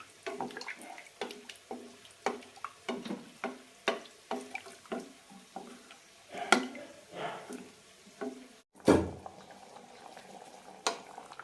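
Jeera rice boiling in a pot, stirred with a spoon: a rhythmic run of soft knocks and scrapes against the metal over bubbling water, close and moderately loud, with a sharper clunk near the end.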